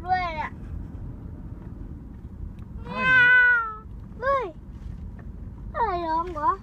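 A cat meows several times, rising and falling calls spread across the clip, with a loud drawn-out meow in the middle, over steady low background noise and nearby talk.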